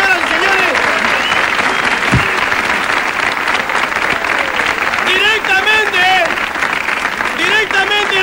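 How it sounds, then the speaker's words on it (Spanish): A comedy show audience gives loud, sustained applause for three finalists in a contest, with an announcer's voice carrying over the clapping throughout. "Vamos a invitar con un fuerte y caluroso aplauso a los tres finalistas."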